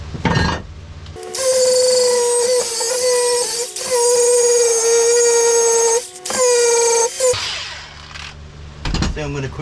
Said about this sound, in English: grind it all the way down to bare metal